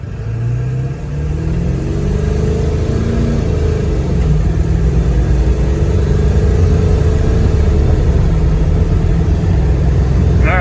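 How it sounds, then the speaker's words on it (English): 1999 Ford F250 with a 7.3L Powerstroke diesel accelerating from a stop to 60, a loud continuous engine drone rising through the gears inside the cab, with no pauses. "I'm going to hit the gas. We're going to do a 0 to 60 now."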